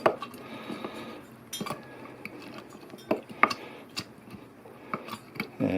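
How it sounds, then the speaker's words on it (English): Lime and sugar muddled in a glass for a Kenyan Dawa cocktail, with a series of sharp, close clinks and taps from the muddler against the glass, unevenly spaced, over quiet background and no speech. "just give it a good squash, muddle it up, release some of the juice and flavour."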